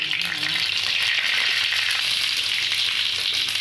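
Mustard seeds and urad dal splutter in hot oil, giving a loud, close, steady crackling sizzle that runs unbroken for a few seconds with no voices.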